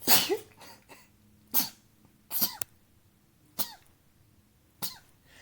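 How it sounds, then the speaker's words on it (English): A series of about six sharp, explosive sneezes in a row, spaced irregularly with brief quiet gaps between them, close to the microphone. "Sneeze."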